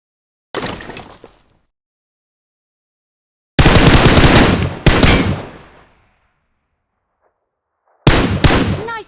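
Automatic weapon fire in the mobile shooter PUBG Mobile, three loud close bursts of rapid shots separated by sudden silence, no talking.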